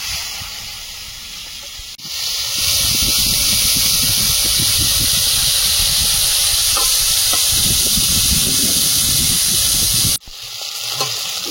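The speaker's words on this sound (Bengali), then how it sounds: "ভেন্ডিগুলো ভাজা হতে দেব।" Okra (bhindi) frying in hot oil in a pan, a loud, continuous sizzle and hiss that swells after a brief quieter start and drops off sharply near the end.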